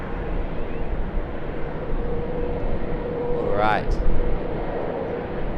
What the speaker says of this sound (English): As we watch the all-black Boeing 777-300ER make its way down to runway 25 for its departure back to Auckland.